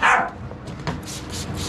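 A dog gives one sharp, loud bark right at the start, followed by faint background noise and a few softer sounds.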